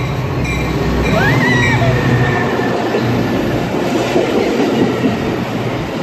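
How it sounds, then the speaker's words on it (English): An outbound Metra commuter train from Chicago rolls loudly into a station platform with steady rumbling and clatter, a brief wheel squeal rising partway through. "The next outbound Metro train from Chicago."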